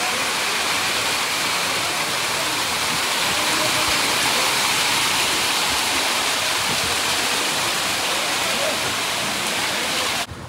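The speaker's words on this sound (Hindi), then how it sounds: "जड़ा मीह पैना पिछले अद्धे घंटे च" Heavy stormy rain pours down steadily in a dense, loud, continuous roar during a storm, with no break or change in intensity throughout.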